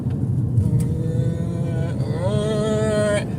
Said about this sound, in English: And then we hear the car coming home.